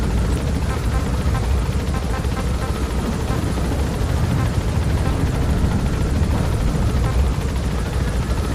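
A helicopter in Metal Gear Solid V gains altitude, a loud, steady, close rotor roar with dense throbbing that continues evenly throughout.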